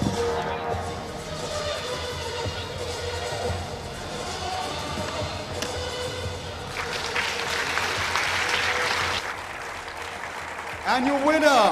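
Crowd applause at a Brazilian jiu-jitsu grappling event, steady clapping and cheering throughout that swells louder toward the end, with an announcer's voice heard over it.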